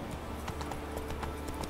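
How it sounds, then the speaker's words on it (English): Horse hooves clip-clopping at a steady riding pace in The Witcher 3: Wild Hunt, a quiet, even rhythm of hoof falls over low game ambience, with no talking. "see if I can't get on a horse and ride"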